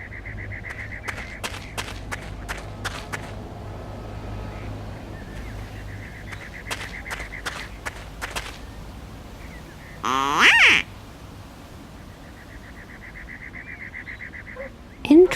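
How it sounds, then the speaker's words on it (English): Ducks quacking in response to a noisemaker in the PC adventure game Secret Files 2: Puritas Cordis, with a few sharp clustered quacks among repeated clicks and taps, plus a low hum underneath. "This noisemaker seems to appeal to the ducks."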